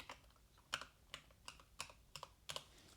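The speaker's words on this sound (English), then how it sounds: "and if we start typing" Typing on a computer keyboard, about a dozen crisp key clicks in uneven bursts over a few seconds, close and fairly quiet with no voices.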